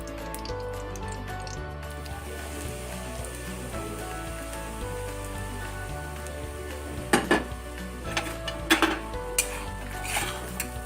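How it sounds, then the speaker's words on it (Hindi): Semolina being roasted in ghee in a pan for laddoos, heard as a steady close sizzle and stirring with a few sharp clinks of a spoon against the pan in the second half; no one talks. "पहले सूजी भूनते हैं।"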